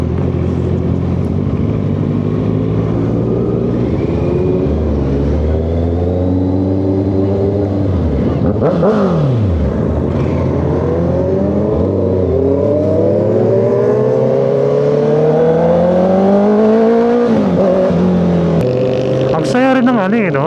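Honda CBR650R motorcycle engines rev repeatedly, pitch climbing and falling in long sweeps, loud and close throughout, with a brief rise and drop midway.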